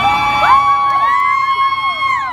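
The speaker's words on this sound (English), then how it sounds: "feel free to cheer for anything you want" A crowd at a Hollywood Walk of Fame star ceremony for Selena Quintanilla cheers with shrill, rising whoops and screams that swell and then hold, close and loud.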